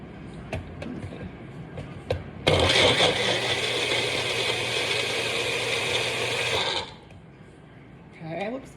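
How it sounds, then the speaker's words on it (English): Personal blender running as it blends a protein shake, a loud steady motor whir that starts abruptly, holds for about four seconds, then cuts off, with small clicks and handling noises before and after. "Apparently you can just put it on the blender and just push it down and it'll blend."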